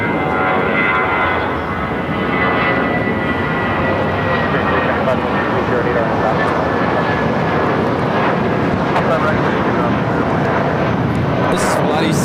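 An airliner taking off at LAX fills the air with loud, sustained jet engine roar and a thin high whine, steady and close, while a voice talks over it.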